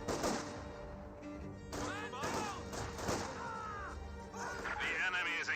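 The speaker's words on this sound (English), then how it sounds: "Another incendiary grenade has been thrown, gets good damage onto these conscripts." An incendiary grenade blast during a Company of Heroes 2 battle, heard as sharp crashing impacts among scattered battlefield gunfire and whooshing effects, moderately quiet, with a voice talking over it.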